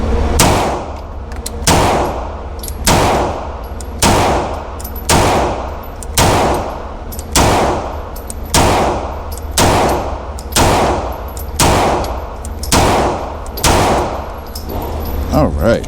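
A Beretta M9A4 pistol fires at a target outdoors, about fourteen sharp, loud shots spaced at an even, deliberate pace with brief metallic ringing after each report.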